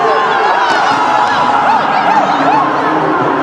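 Large stadium crowd at the India vs New Zealand cricket final, a steady dense roar of cheering and chatter that carries on without a break and sounds loud and near.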